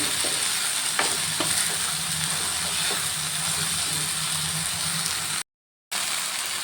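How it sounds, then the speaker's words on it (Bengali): Chopped banana flower and moong dal with spices are stir-fried in a pan, giving a steady close sizzle with occasional scraping stirs throughout, interrupted once by a short gap of silence. "দিয়ে দিলাম সব মুগ ডালগুলো দিয়ে দিলাম আবারও সব কিছু ভালোভাবে কষিয়ে নেব"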